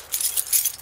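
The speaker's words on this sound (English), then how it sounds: "there's my keys" A bunch of keys jangles in a workshop as they are picked up, a bright, close metallic clinking that rises and falls in quick bursts.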